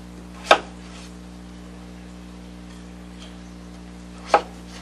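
Two sharp knife chops on butternut squash being cut into small dice, several seconds apart, crisp and close over a faint steady hum.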